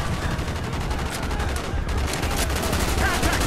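Rapid gunfire and explosions from the Call of Duty: Black Ops Vietnam mission Victor Charlie on PC, a dense, loud, continuous barrage of shots with a steady battle din throughout.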